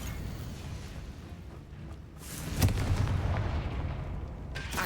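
Fiery blast spell going off in a Harry Potter video game: a sudden booming burst hits midway through, followed by a rumbling, crackling tail over low background game ambience.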